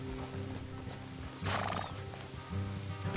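A horse in Red Dead Redemption 2 whinnies loudly in a shrill, shaky burst near the middle, with low snorts and hoof sounds before and after.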